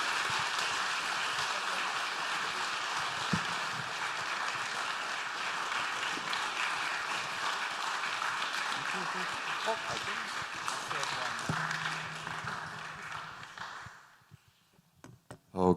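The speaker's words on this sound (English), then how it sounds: "a round of applause for Jessica Berlin" Sustained audience applause for a speaker at a summit in Vilnius, Lithuania, a dense, even roar of many clapping hands filling the room, continuing steadily before tapering off and ending abruptly near the close.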